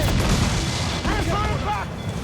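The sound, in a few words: naval cannon fire in Assassin's Creed 4 Black Flag video game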